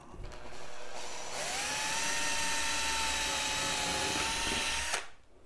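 Power drill boring through a workbench while drilling a Toniebox shelf, one steady loud whine that holds for about four seconds and then cuts off abruptly.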